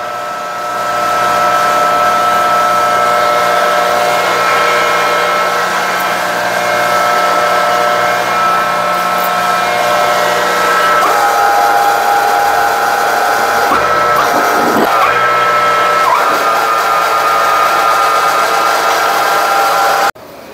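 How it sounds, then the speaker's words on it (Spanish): A hydraulic press pushes a machined capsule into a Hendrickson tandem suspension bushing, a loud steady motor and pump whine that shifts tone partway through as the load changes, then cuts off at the end. "vamos a proceder a meterlo en la prensa hidráulica"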